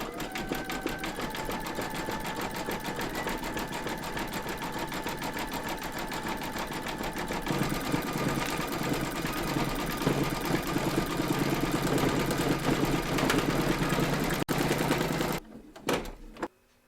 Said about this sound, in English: Pop your hoop into your machine and stitch round number 4, and that's going to do the satin stitching detail.